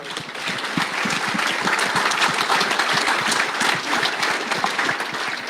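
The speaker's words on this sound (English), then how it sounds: "Give them a round of applause, I think." Audience in a room at a rally forum applauding for rally marshals, dense steady clapping from many hands, moderately loud and continuous for several seconds with no talk over it.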